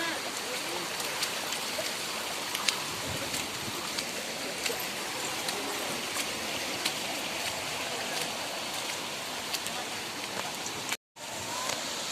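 Heavy rain pours continuously on the old temple path at Pavagadh with a dense, even hiss and scattered drip taps, cutting out abruptly for a split second near the end.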